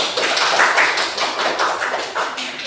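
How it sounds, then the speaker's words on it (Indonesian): A small classroom group gives short, brisk applause, a dense patter of hand claps that fades out within a few seconds. "tepuk tangan untuk kelompok 2"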